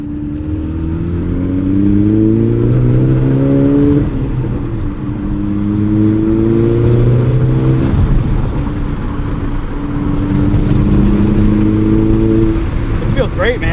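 A 2008 Volkswagen GTI two-door with a manual gearbox accelerating on the road, its engine note climbing repeatedly through the gears with brief dips at the shifts, loud and close from inside the cabin.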